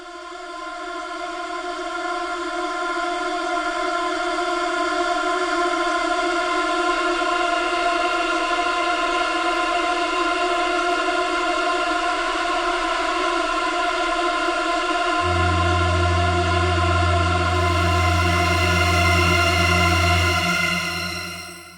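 A sustained drone preset from the Shamanic Voices bank for the Pigments synth holds a rich, evenly layered tone that stays steady and loud, with a deep low layer entering around two-thirds through before it fades at the end.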